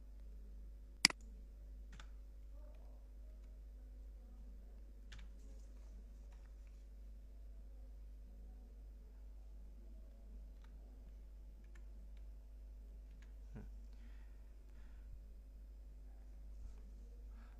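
Sparse, faint clicks of typing on a computer keyboard, with a few sharper isolated taps and long gaps between keystrokes, all over a steady low hum in a quiet room.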